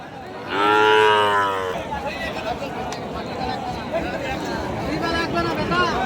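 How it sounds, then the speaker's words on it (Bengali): Indian-breed Sahiwal cattle at a livestock market give one loud, drawn-out moo near the start, followed by a steady crowd murmur and people talking nearby. "দর্শক এই পাশে যে গরুগুলো দেখতে পাচ্ছেন এগুলো পঁয়তাল্লিশ ছয়চল্লিশ এরকম দামের ভিতরে"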